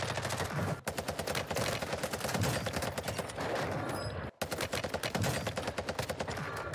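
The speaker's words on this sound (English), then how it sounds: "He's already shooting at me." Dense, continuous automatic gunfire from Call of Duty: Warzone, with rapid repeated shots firing almost without pause across the clip, briefly cutting out twice.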